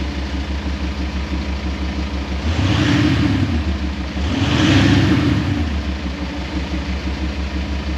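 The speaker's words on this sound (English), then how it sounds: "you can hear the slight rough idle to this one" A VW Amarok fitted with a Kufatec exhaust sound booster idles with a deep, slightly rough burble, swelling twice into louder, fuller pulses before falling back to a steady low idle.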